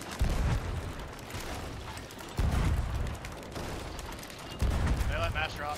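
Ship cannons in a pirate naval video game boom in three heavy bursts roughly two seconds apart, loud and close, with crackling debris and a brief whistle near the end.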